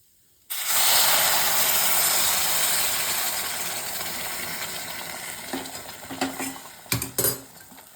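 Boiling water poured into a pan of roasted ingredients for a Srirangam jeera sweet, a sudden loud rushing hiss and sizzle that gradually settles, followed by a few clinks and scrapes of stirring near the end.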